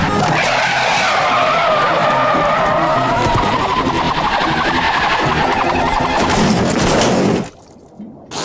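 A cartoon car brakes hard into a long, loud, squealing skid that holds steady for about seven seconds, then cuts off abruptly into near silence.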